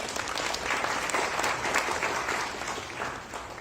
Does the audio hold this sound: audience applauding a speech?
yes